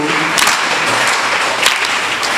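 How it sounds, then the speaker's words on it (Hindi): Rhythmic hand clapping from a group at a tabla workshop held in a school, steady claps at an even tempo filling the room, with faint voices underneath. "ताली की स्पीड नहीं चेंज होनी, ताली की स्पीड वही रहेगी"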